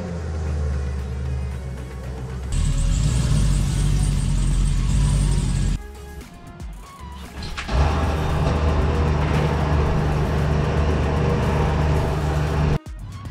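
A Chevrolet C7 Corvette Stingray engine rumbles loudly as the car is driven up to a trailer, a deep steady drone that drops off briefly mid-way, then resumes with a rough mid-range growl before a short cutoff near the end.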